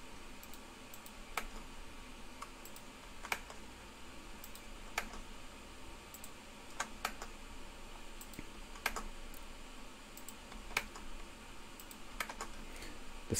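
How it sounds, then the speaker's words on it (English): Fingers type on a soft, gentle computer keyboard in a steady, uneven patter of light key clicks, close and continuous with no talking. "This keyboard is nicer too. It's gentler on my fingertips, not as hard."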